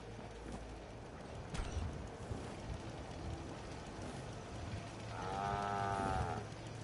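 A cow in the video game Fallout 4 gives a single drawn-out moo toward the end, over a low steady game ambience with faint clopping steps and no talking.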